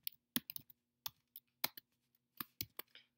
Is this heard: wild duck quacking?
no